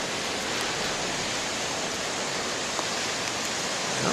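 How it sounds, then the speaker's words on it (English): Ocean surf rolls in as a steady, broad wash of noise, waves breaking continuously at moderate distance on a morning shoreline. "I must say the waves ain't bad this morning"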